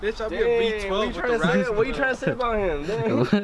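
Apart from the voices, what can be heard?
No distinct noise like a dog, phone or traffic.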